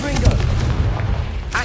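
Confringo blasting spell from the Hogwarts Legacy video game, a sharp booming blast that fades quickly, heard near and loud, with a voice calling out.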